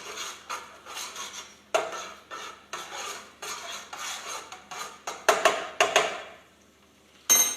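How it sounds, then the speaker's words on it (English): A utensil repeatedly scrapes and stirs rice around a metal pot in a steady series of close, rasping strokes, then a pause and one last scrape. "I like to stir it around a little bit"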